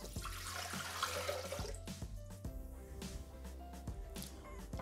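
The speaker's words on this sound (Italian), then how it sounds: "mettere nel boccale l'acqua." Water poured into a Thermomix TM6 bowl while cooking chicken, a steady splashing stream running for several seconds alongside a low hum, with no talk.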